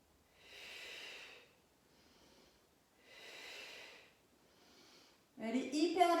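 Slow, steady exhalations during a gentle leg-lifting floor exercise, two soft breath-outs near the mic separated by quieter inhales, followed by a louder burst of voice at the end.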